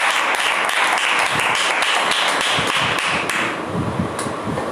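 Enthusiastic applause from a group at an online church prayer meeting, a dense, continuous patter of clapping that stays strong throughout and tapers slightly near the end.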